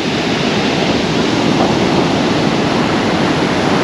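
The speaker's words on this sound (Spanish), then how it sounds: "sí pegan muy fuerte las olas" Strong ocean waves at Playa del Divorcio in Los Cabos, heard as a loud, continuous roar of breaking surf mixed with wind buffeting the microphone, with no voices.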